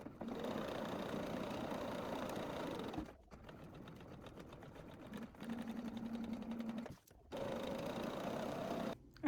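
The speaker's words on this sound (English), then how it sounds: "let's get to sewing" A sewing machine stitches along the edges of a placemat in long, steady runs of fast humming. Two brief pauses break the runs, and the sound is faint and close.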